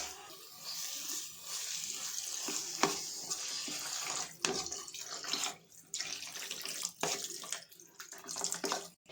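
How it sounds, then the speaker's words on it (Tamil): Water pours and splashes into a pan of squid masala with coriander powder, with intermittent gushes and a faint sizzle, broken by short pauses. "கொஞ்சமாக தண்ணி சேர்த்துக்கணும்."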